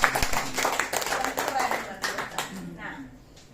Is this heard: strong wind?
no